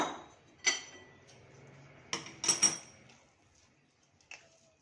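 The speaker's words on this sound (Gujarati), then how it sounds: "હવે આપણે ચાસણીને મોહનથાળમાં મિક્સ કરી દઈએ. હવે આપણે એને હલાવી લઈએ." Sugar syrup being stirred into mohanthal in a pan, heard as a few sharp clinks and scrapes of a spoon against the metal pan, spaced irregularly with quiet gaps between.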